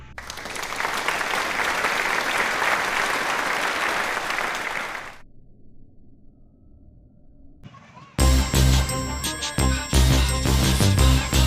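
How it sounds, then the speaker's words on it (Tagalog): An audience applauds a boxing trainer during a training session, a dense burst of clapping for several seconds that fades into near silence before loud music with jingling tones cuts in. "Kaya isang palakpak naman dyan mga idol."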